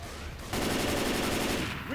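Fireworks bursting in the Left 4 Dead zombie shooter during a carnival concert escape, a sudden loud onset followed by a dense crackling fusillade of rapid pops that fills the whole moment.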